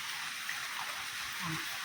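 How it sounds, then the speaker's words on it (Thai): Rain falling and splashing in under a covered outdoor spot, a steady broadband hiss of water throughout with no clear individual drops. "ตอนนี้ฝนตกค่ะ เอาฝนสาดแล้วพี่น้อง ฝนสาดเขามาเนาะ"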